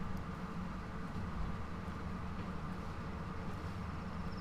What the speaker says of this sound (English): No one sells tickets to ride this train.